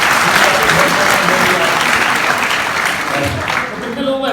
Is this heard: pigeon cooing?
no